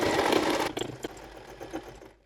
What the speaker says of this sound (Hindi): यहाँ पे हम इसको डबल स्टिच कर लेते हैं।